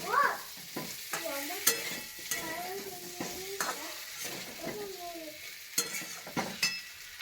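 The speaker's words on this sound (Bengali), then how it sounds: "গরম মশলা গুঁড়ো দেওয়া হলো ভালো করে কষানো হচ্ছে" Potato and pea curry with garam masala powder is stirred and sautéed in a pan, with steady scraping strokes over a soft sizzle and a few sharp utensil knocks, close up and without talk.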